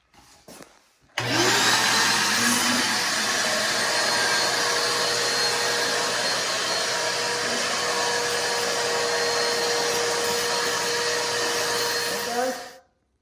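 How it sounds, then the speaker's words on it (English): A vacuum cleaner sucking up broken glass from a garage floor roars steadily and loudly for about eleven seconds after a brief quiet start, then shuts off. "vacuum out some of the broken glass and sweep up the garage floor"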